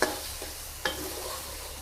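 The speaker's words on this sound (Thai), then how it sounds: "การผัดไฟแรงตลอดนะคะ กระทะมันจะ อ่า เกียมเกียมเขาเรียกว่าเกียมเกียมแบบนี้นะคะ" Loud, steady sizzling of king oyster mushrooms and egg stir-frying in a wok over high heat, with a couple of sharp scraping clacks as a spatula stirs the pan.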